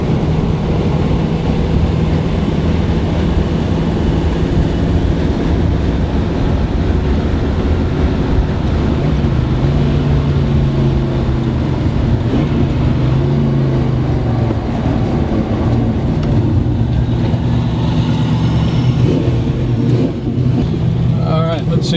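Car engine running with a newly installed Street Demon carburetor, a steady low droning hum heard from inside the moving vehicle with faint shifts in pitch, wind and road noise underneath.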